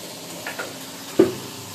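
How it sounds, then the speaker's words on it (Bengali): Small mourala fish frying in oil in a home kitchen, cooked for a Jamai Sasthi meal: a faint, even sizzle with a couple of brief utensil clinks. "আমার মোরলা মাছ ভাজা হচ্ছে এখানে।"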